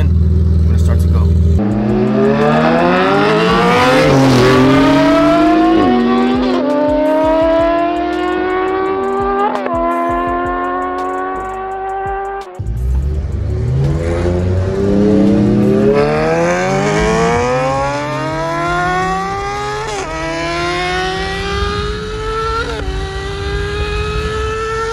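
Racing vehicles accelerate hard from a 20 mph roll on a track, loud engines climbing through repeated rising gear pulls with brief drops at each shift, close and dominant throughout.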